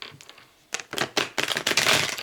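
Rapid, crisp papery flicks and riffles, starting faint then building into dense bursts of card shuffling close by, with no talking.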